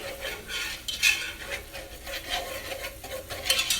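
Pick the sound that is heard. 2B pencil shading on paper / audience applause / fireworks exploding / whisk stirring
whisk stirring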